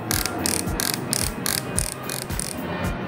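The torque adjustment ring of an Edon ED3-121 12V cordless drill driver being turned, giving a quick run of evenly spaced ratcheting clicks, close and crisp, with no voices.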